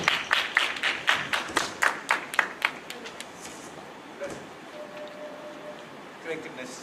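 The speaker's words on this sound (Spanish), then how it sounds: "Démosle un aplauso." A short burst of clapping, a dozen or so sharp claps from a small group, fading out into room noise.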